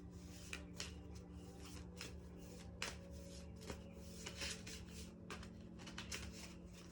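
Continuous papery shuffling of a tarot card deck with soft riffles and slaps, close by, over a steady low hum.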